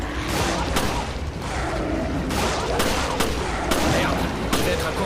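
Gunfire in Resident Evil Revelations, loud rapid bursts of shots and booming impacts in dense, continuous succession, with some speech mixed underneath.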